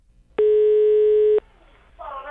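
A steady telephone line tone while calling someone holds for about a second, loud and alone, then cuts off before a voice answers on the line.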